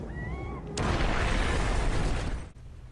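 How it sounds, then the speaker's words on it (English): A dense, rumbling roar of distant artillery shelling fills a war-film scene, sustained for about two seconds before cutting off, loud and broad beneath a faint tonal background. "The shelling in the background also continues on within the movie"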